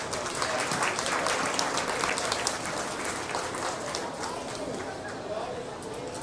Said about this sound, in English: let's give a nice round of applause to these exhibitors